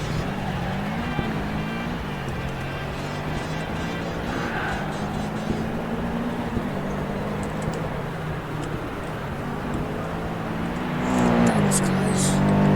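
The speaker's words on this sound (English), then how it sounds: "Or test our car's maneuverability" A car driving on a road test track, its engine a steady continuous drone with a low hum throughout, swelling louder near the end as it seems to pass close by.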